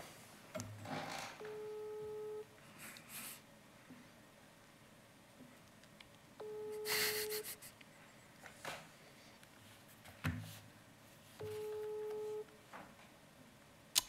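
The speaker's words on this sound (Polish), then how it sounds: "No suma Wojtków, która nie odbiera telefonów" An unanswered outgoing phone call: a ringback tone sounding in three separate bursts with pauses between them, with faint background noise.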